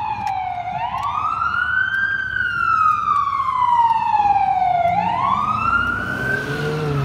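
An ambulance siren on a Saturday morning in Rochester, New York, wails loudly and steadily as it passes close by, its pitch sweeping up and down, with a rumbling engine and traffic underneath.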